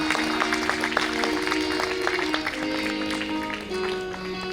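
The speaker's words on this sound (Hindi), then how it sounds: "थोड़ा मन से ताली बजाइए।" At a Bhagwat Katha religious discourse, an audience claps steadily and continuously, with tonal music sustained underneath.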